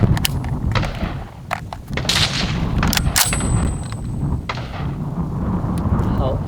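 A FEG HD-18 rifle, a Hungarian copy of the SVD Dragunov, fires loud, sharp reports. Each shot is followed by a booming tail, mixed with a few smaller clanks and knocks.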